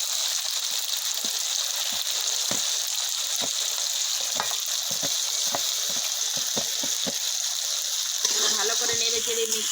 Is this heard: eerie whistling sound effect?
no